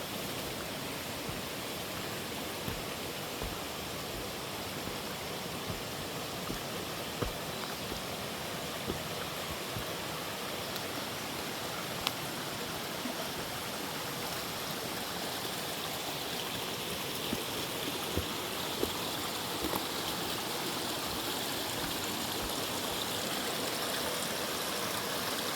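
A creek rushes along a spring hiking trail to Baskins Creek Falls, a constant broad hiss of flowing water that holds steady and close throughout with no voices.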